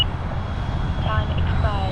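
A Lockheed T-33 Shooting Star jet roars past in a steady, loud engine rush, with a rising whine building toward the end.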